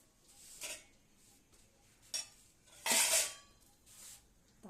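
Rice being served onto a plate with a utensil, a few soft scrapes and clinks at irregular intervals, one louder scrape in the middle, close and quiet with no voices.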